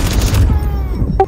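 Gunfire in a Ubisoft video game: a dense burst of shots at close range fills the first half, followed by quieter scattered impacts and a short bright electronic tone near the end.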